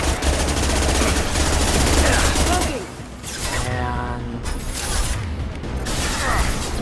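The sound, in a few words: gunshots in Mass Effect 2 video game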